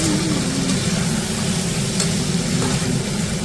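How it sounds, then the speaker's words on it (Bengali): Eggplant frying in hot oil in a pan is stirred gently, giving a steady loud sizzle with soft scraping of the spatula, close and continuous without speech. "হালকা হাতে একটু নাড়াচাড়া করতে হবে।"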